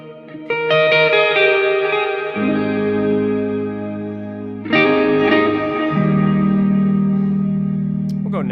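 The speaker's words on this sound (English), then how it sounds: "it's on the brink of being more delay and reverb than it is playing" Clean electric guitar, a few picked notes and chords ringing out under heavy delay and reverb, the echoes piling into a long wash that swells again with each new strum.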